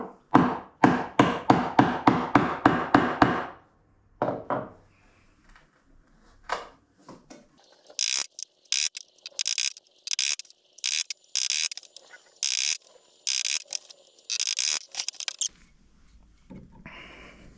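A steel chisel chopping a mortise by hand in wood, struck in rapid rhythmic blows at first, then a run of sharper, irregular knocks and scrapes as chunks are levered out, close and fairly loud with no talk.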